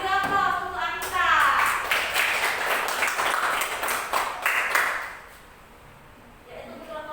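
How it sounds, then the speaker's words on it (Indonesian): An audience applauds a performer named Anissa: a dense burst of clapping rising over a few seconds and fading out around five seconds, with voices over its start. "beri aplaus untuk Anissa"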